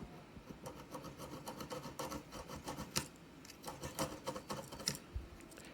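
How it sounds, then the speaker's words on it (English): Sandpaper rubs back and forth on the lever part of a Russell Hobbs toaster, a quiet, rhythmic scratchy rasp in repeated short strokes, close up with no talking. "Just use anything that is sharp but not too harsh, like even sandpaper."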